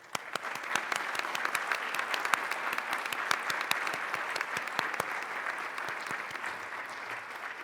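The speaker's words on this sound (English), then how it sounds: "I hope all of you will join me in giving these graduates and their families a round of applause." Steady applause from an audience at a 2021 master's and specialist graduation ceremony, honoring graduates and their families, with dense continuous clapping and scattered sharper claps sustained throughout.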